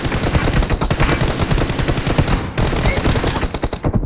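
Rapid automatic weapon fire in the battle-royale game PUBG, loud dense bursts of shots rattling continuously with a brief break near the end.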